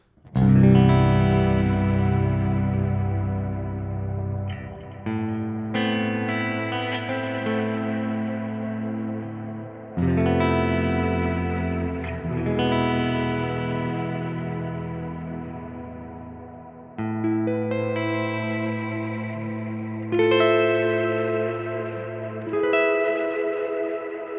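An electric guitar rings out slow chords drenched in reverb and echoing delay, each strum swelling and trailing off into a long shimmering tail.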